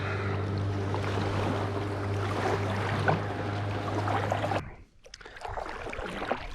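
Small waves slap against a kayak on weedy Gunbower Creek, a steady close wash of water with a low hum that cuts out near the end before the splashing resumes.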